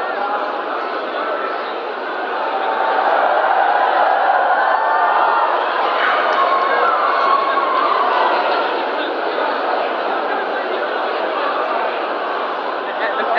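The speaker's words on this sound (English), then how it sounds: "And everybody's cheering. And it's open and stuff." A large indoor crowd at MCM Comic Con London as the doors open, a dense steady roar of voices and cheering that swells slightly and holds loud throughout.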